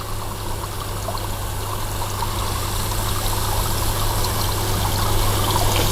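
Water flushes steadily through a plant pot to rinse out fertilizer: a continuous close pouring and trickling rush that holds an even level throughout, with no voices.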